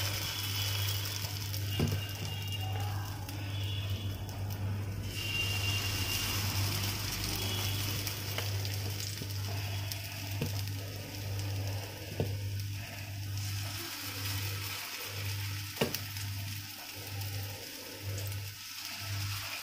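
Coriander leaf fritters frying one by one in hot oil over a high gas flame, giving a steady close sizzle and hiss over a constant low hum, with a few faint clicks and no talk.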